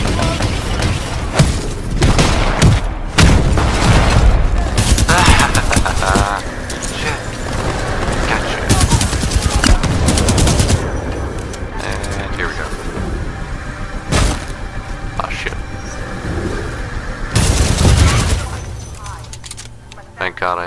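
Energy LMG fire in Titanfall 2, loud rapid bursts with booming impacts and explosions, mixed with other game sounds and someone talking over it.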